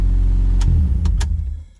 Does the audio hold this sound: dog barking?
no